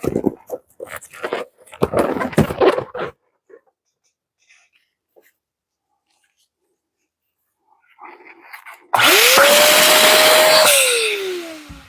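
An electric balloon inflator machine runs in a loud steady whoosh for about two seconds, its motor pitch dipping as it winds down, after scattered rustling and a quiet pause.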